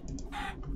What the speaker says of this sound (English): Chickens. I'm gonna need chickens for feathers.